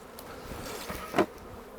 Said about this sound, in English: we can just knock the rest of the bees out of the brood box